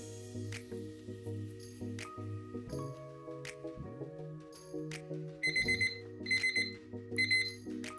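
An interval timer gives repeated short electronic beeps, with a sustained tone partway through and a closing burst of rapid alarm-style beeping, fairly faint against quiet room tone.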